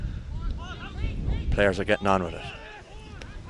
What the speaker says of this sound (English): A windy Bennett's Bridge